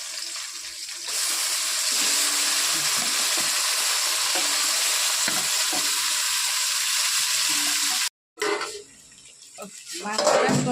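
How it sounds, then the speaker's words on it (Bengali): Meat sizzling and frying in a pan with whole garam masala, bay leaves, cloves and chopped onion, a steady hiss with stirring clinks, cut off briefly near the end before a softer sizzle resumes. "মাংসটা সুন্দর কষানো হয়ে গেছে"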